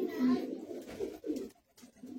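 Madrasi high flying pigeons cooing at a loft sale in Bagnan, Howrah, a steady murmur of low coos close by with a brief lull near the end.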